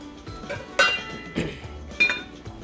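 Metal pans being handled in a kitchen while roasting pork loin, a few sharp close clanks and ringing clinks spaced about a second apart over quiet background.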